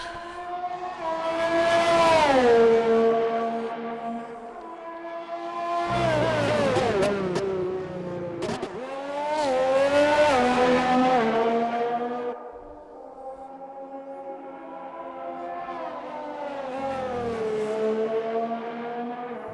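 A McLaren race car in a racing video game, on an out lap at the Austria circuit, roars through four long revving sweeps. The engine pitch climbs and drops with each gear change and stays loud throughout.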